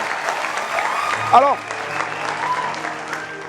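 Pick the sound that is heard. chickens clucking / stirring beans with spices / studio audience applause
studio audience applause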